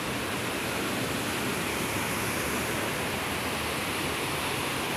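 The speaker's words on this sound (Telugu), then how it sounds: "This is Neer Jharna waterfall in Rishikesh." Neer Jharna waterfall near Rishikesh roars as a constant, dense wash of falling water, loud and unbroken throughout, with no talking.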